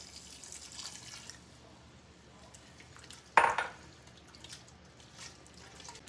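One cup of sherry goes into a pot holding olive oil for lobster bisque, a brief splashing pour near the middle, close but short, against a quiet kitchen background.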